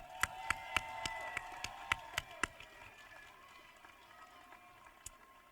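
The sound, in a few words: audience applause for the bagpiper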